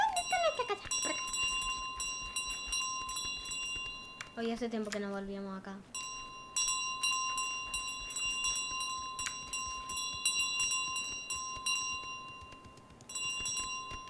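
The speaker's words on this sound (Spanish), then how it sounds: "¡Teníamos muchas campanas!" Bells in Untitled Goose Game, a video game, ring out in repeated bright clangs across most of the stretch, while a player talks over them and game music plays alongside.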